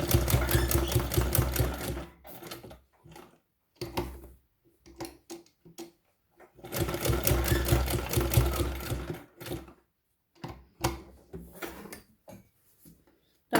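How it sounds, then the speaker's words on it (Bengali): A sewing machine stitches fabric for a school uniform belt in two sustained rapid runs, each a few seconds long, separated by gaps filled with light clicks and handling sounds. "তাই আমাদেরকে এই কাপড়টাকে ভেতরে রেখে সেলাই করে দিতে হবে।"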